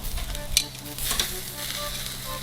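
Fat dripping from fish and shellfish on a grill sizzles in a steady crackling hiss, with a few sharper pops, close and moderately quiet.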